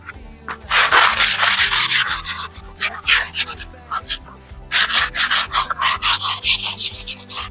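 Painted surface sanded by hand with sandpaper, a steady run of close, rhythmic rasping strokes that pause briefly and then resume, over a quieter low background.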